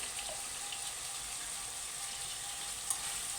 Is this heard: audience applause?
no